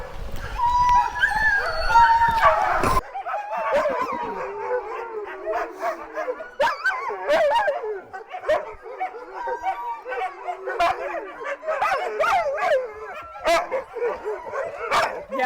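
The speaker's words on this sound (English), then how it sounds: "Inuit dog." Inuit sled dogs bark, yip, whimper and howl in a noisy chorus at a winter kennel, and a person talks briefly near the start.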